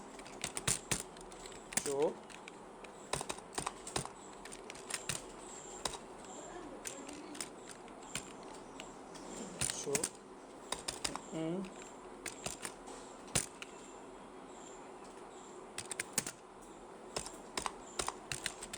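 Typing on a computer keyboard while working in MS Word: steady bursts of soft key clicks and taps over a long stretch, with a voice speaking faintly at times.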